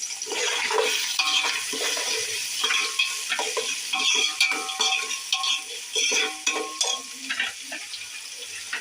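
Chopped onions added to hot oil with cinnamon, cloves, cardamom and star anise for chicken biryani, sizzling loudly up close while a utensil stirs and scrapes the pan in uneven strokes.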